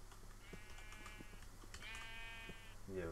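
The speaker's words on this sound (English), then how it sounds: "let's try and get sheep" Sheep in the Minecraft video game bleat in two long, wavering calls, fairly close and clear over a low steady background hum, with another short bleat starting at the end.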